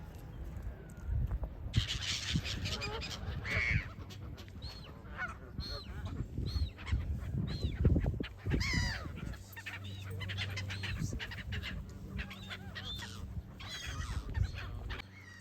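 Geese honk repeatedly at close range by a lake at Clumber Park in winter, a loud, ragged chorus of overlapping calls with short pauses, over a low outdoor rumble.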